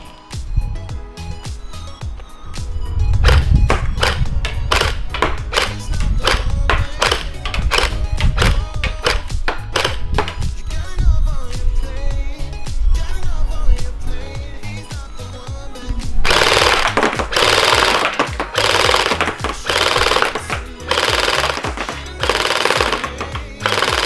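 An HE ACR gel blaster fires ardent orange gel balls on an 11.1-volt battery until the magazine is empty, a loud close rapid mechanical stream of shots, with a brief pause and then a denser, harsher burst near the end.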